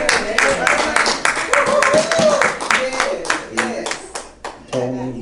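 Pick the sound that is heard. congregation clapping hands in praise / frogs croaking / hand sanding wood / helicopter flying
congregation clapping hands in praise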